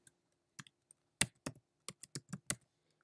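A computer keyboard being typed on to enter a Terminal command on a Mac running OS X Sierra, with a quick, irregular run of crisp, close key clicks and short pauses.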